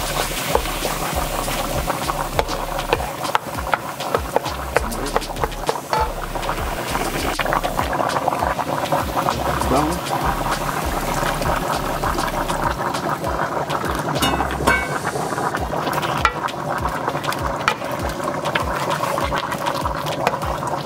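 Spaghetti boils in a pot with a loud, steady bubbling rumble that carries on without break, and faint scrapes now and then come through over it.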